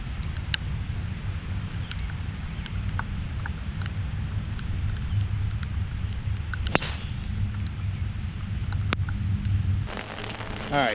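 Steady rain patters on a golf course, a continuous close hiss with scattered sharp drop taps and a few louder cracks, heard on its own without speech.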